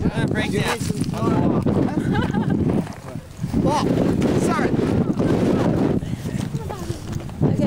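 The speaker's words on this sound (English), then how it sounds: "getting pretty windy" Steady wind roars and buffets the microphone throughout on the Huanghuacheng section of the Great Wall near Beijing, with people talking over it and a brief lull near the middle.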